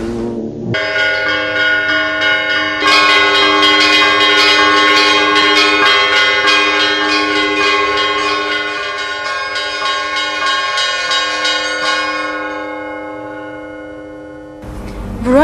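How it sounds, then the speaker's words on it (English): Church bells of Voronezh ring in a sustained, layered peal, rich overlapping chimes swelling after a few seconds and slowly fading toward the end before a final strike; no voices. "The chimes of its numerous churches enchant its citizens every day."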